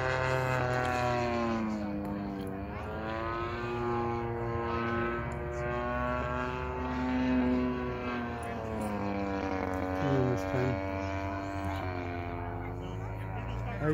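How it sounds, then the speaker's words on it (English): A gas-powered 75-inch Extra RC model airplane drones overhead, its engine pitch rising and falling steadily as it maneuvers, with a voice speaking over the engine. "This thing is an amazing plane."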